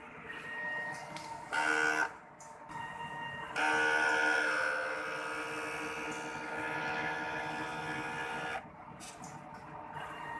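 A printer runs a weak head cleaning cycle, its motors whirring and buzzing in bursts with short pauses and a longer sustained mechanical drone, close by.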